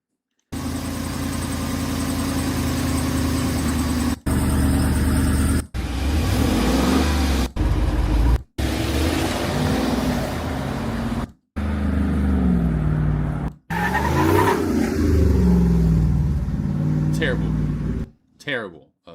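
A 392 Jeep Wrangler's engine rumbles loud and close through its exhaust, surging in sustained revs across several stretches separated by abrupt cuts, with a voice talking at points.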